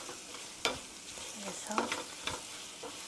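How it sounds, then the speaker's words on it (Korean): Champon noodles being stir-fried in sauce, giving soft scraping stirs and a low sizzle with a few sharp clacks of a utensil against the pan, heard close and fairly quiet, with a brief spoken word. "소스에 넣어서 면을 같이 볶아주세요"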